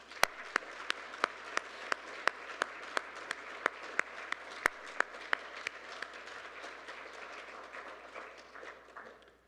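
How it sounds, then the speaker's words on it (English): A lone person claps at a family medicine residency graduation ceremony, sharp evenly spaced claps in a quiet room that slow and fade out. "if you would just join me in a round of applause for ISU"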